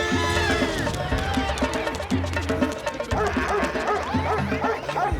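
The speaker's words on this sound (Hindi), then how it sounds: "अरे मेरे पे क्यों भौंक रहे हो?" A cartoon dog barks in a rapid series of sharp, loud yaps with whimpering yips mixed in, layered over busy animated soundtrack noise.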